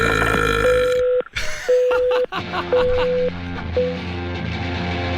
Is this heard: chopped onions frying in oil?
no